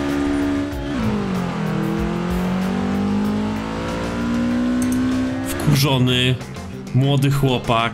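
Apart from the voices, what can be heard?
Volkswagen Golf driving at full throttle in video game Forza Horizon 4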